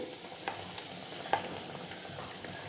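Balls of vada batter fry in hot oil, a steady gentle sizzle with a few soft clicks and taps of a spoon; close and quiet, no one speaking.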